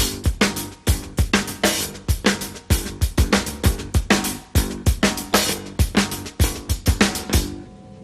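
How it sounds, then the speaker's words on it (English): Drum kit playing a march-like groove, with sharp snare hits, bass drum kicks and hi-hat in a steady repeating pattern, close and loud with no talking. "I whacked the snare there, and I have to change the bass drum a little bit to set up that kick, and I might have to change the hi-hat"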